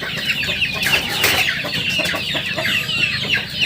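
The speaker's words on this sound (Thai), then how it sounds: "เดี๋ยวเขาจะปล่อยไก่ออกมาครับ" A dense chorus of young chickens, about six weeks old, clucking and squawking continuously as they are released for feeding, close by and fairly loud, with many overlapping calls and no talking.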